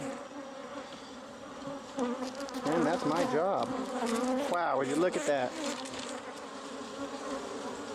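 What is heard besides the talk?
swarm of bees from a hive inside a wall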